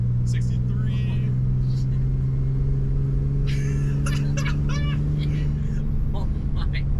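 A 5.9 Cummins diesel pickup truck accelerates steadily in fifth gear around 60 mph, its engine drone and road rumble continuous and loud, with faint clicks and squeaks above.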